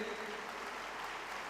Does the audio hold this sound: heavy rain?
no